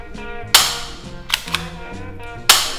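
A Colt 1911 spring-powered ABS airsoft pistol firing 0.12 g BBs, three sharp close snapping shots spaced irregularly with smaller clicks of the slide being cocked between them, over quiet background music.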